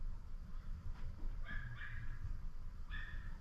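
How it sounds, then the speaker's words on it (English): A dog nearby yips and barks again and again in a few short, fairly faint bursts over a low rumbling background, with no talking. "There's also a dog that just keeps barking."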